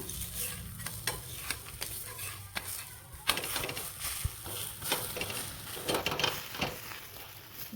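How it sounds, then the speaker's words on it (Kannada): Thin ragi roti cooks on a hot pan, giving a soft sizzle with scraping and tapping sounds at irregular intervals, close by and without speech. "ನೋಡಿ, ಈ ಥರ ಚೆನ್ನಾಗಿ ಬೇಯಿಸ್ಕೋಬೇಕು ರೊಟ್ಟಿನ"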